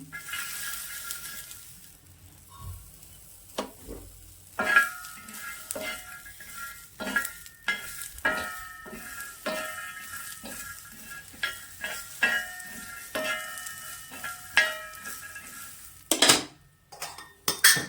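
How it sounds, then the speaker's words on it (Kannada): Raw toor dal being dry-roasted in a little oil in a pan, with a steady soft sizzle broken by repeated clinks and scrapes of a spoon stirring against the metal, close and moderately loud, no voices. "ಲೈಟಾಗಿ ಒಂದು ಸ್ವಲ್ಪ ಎಣ್ಣೆ ಹಾಕಿಬಿಟ್ಟು ಫ್ರೈ ಮಾಡ್ಕೊತಾ ಇದ್ದೀನಿ"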